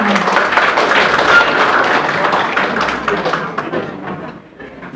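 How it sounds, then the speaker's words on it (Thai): Guests at a Thai engagement ceremony applaud in a dense burst of clapping that carries on steadily and then thins out and fades near the end. "ขอเสียงปรบมือด้วยค่ะ"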